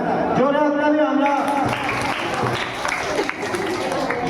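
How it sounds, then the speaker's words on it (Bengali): Loud applause and crowd noise from students at a school dengue awareness event, sustained clapping with hubbub, preceded by a brief tonal voice or announcement at the start. "জোরে হাততালি"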